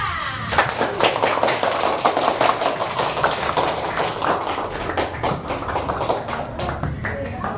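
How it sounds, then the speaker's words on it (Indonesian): Classroom applause for a student group, a dense patter of many hands clapping at once, steady and close, lasting several seconds with no pause. "beri aplaus untuk kelompok 2"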